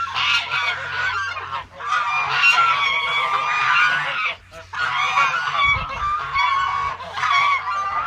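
A flock of geese, Embden and gray Chinese among them, honks loudly and continuously on a pasture poultry farm. The harsh calls overlap, close by, with only brief dips in the clamor.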